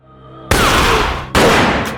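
Two loud, close gunshot bursts crack out in a robbery shootout film scene, each with a sharp onset followed by a long decaying rumble.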